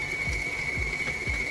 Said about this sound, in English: As you can see, the mixer is starting to shake.